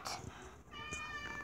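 A cat meows once, a drawn-out tonal cry rising near the end, close and fairly clear over low background noise while a game plays.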